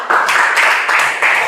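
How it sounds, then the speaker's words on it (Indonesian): Junior high students in a Latin class give a short round of applause for a classmate, a few bursts of clapping in quick succession, close and brief. "Tepuk tangan untuk Hendrik."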